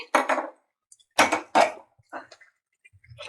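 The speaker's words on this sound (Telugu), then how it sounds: "కడాయి పెట్టేసుకోవాలి." A kadai set down on a lit stove to make tempering for tomato pickle: several close, sharp metallic clanks and knocks in short bursts, with quiet gaps between.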